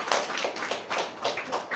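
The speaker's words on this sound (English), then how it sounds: "You have to clap and give him praise." Church congregation clapping in praise during a sermon, a dense run of hand claps in uneven bursts, moderately loud and close, with no voices over it.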